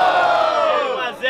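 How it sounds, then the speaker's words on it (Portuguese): Crowd at a student rap battle in Guarulhos roaring and cheering loudly, a dense burst of shouting voices that fades slightly at the end. "Quem gostou das rimas de Daddy faz muito barulho"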